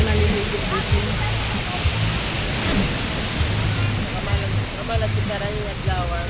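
Ocean surf at Sibuco beach roars continuously, a dense wash of breaking waves close by that rises and falls slightly, with a low engine-like hum underneath.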